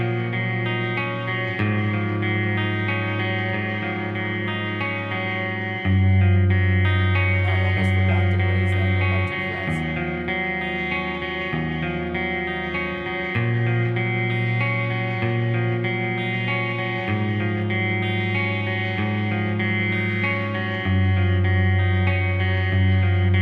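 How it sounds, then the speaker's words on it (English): Clean electric guitar chords played through an echo effect ring out one after another, with sustained notes and repeating echoes that change as the chords shift, and no talking. "Here's more of a clean sound with some echo."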